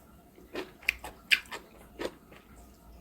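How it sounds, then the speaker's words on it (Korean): Someone chews rockfish kimchi close up, giving a few soft, wet crunching bites spaced irregularly over a quiet background, with no talk. "일단 김치부터 한 번 먹어보겠습니다"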